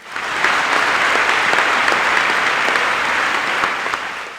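A college audience claps together in a hall, a dense, loud wash of applause that swells in quickly and holds steady for several seconds before easing slightly.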